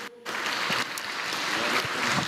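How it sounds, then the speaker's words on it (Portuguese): A church congregation bursts into steady, dense applause after a brief quiet moment, clapping sustained and fairly loud throughout. "Vamos receber com uma salva de palmas para Jesus"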